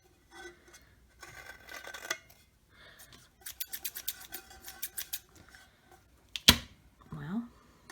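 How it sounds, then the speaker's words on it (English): Scissors snip and trim roughly along the rim of a snowman craft tumbler in quick, close bursts of dry clicking cuts, with quiet pauses between them and a brief voice near the end. "I'm going to take my scissors and I'm just laying them along this rim like this"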